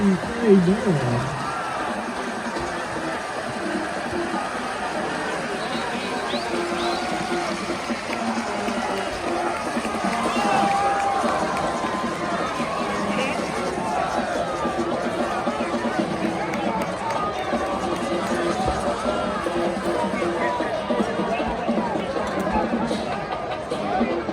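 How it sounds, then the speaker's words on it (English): Football crowd at a Texas high school area championship game, Steele versus Round Rock, a steady, distant wash of cheering and crowd noise running throughout, with a commentator speaking over it. "The perfect storm brings the Dragon Nation alive with cheering."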